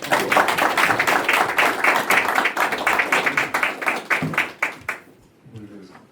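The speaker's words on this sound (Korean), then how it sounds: "여러분 박수로 우리 기자회견 공문을 듣도록 하겠습니다." Applause from reporters and attendees at a political press conference, steady rapid clapping for about five seconds that thins into a few scattered claps before stopping.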